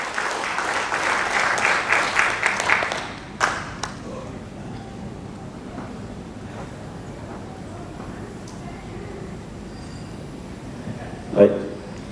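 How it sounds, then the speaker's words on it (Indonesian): Audience applause welcoming a formulator to the front at an organic biological fertilizer presentation, moderately loud in the first three seconds, then fading into room noise and murmuring with a brief sharp knock near the end. "mari beri tepuk tangan yang meriah kepada Bapak Tarif, formulator kita"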